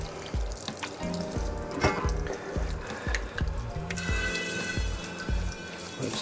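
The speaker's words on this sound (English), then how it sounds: "Rinse this lid off real good." Tap water runs steadily into a kitchen sink, splashing over the enamel lid of a red 7.5-quart Lodge Dutch oven as it is rinsed, with clanks and knocks of the lid against the basin under the continuous near rush.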